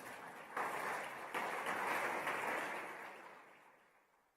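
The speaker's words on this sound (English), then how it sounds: "Please give them a round of applause." Applause at a formal general assembly session, a moderate wash of clapping from a large hall audience that swells in a few surges, then gradually fades away.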